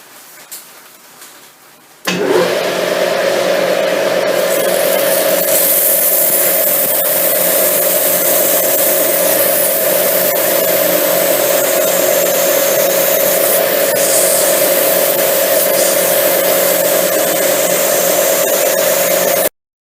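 A metal lathe is turning a threaded workpiece while it is polished with emery cloth. A loud, steady whine with a strong tonal hum starts suddenly after a quiet opening and runs without a break.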